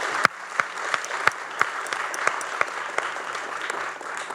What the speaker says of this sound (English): Please join me in giving everybody a round of applause.